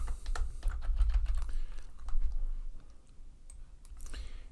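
Rapid keystrokes on a computer keyboard as a username is entered into routing software, a close, irregular run of light clicks with brief pauses and no talking.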